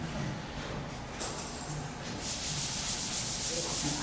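A classroom board is scrubbed or sanded with soft, repeated rubbing strokes that stay faint and grow denser toward the end, with no talk over them.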